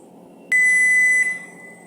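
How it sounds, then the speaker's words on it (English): A kitchen timer on the stove beeps once with a single loud, high, steady electronic tone lasting under a second, then cuts off into quiet room hum. "So our timer has gone off."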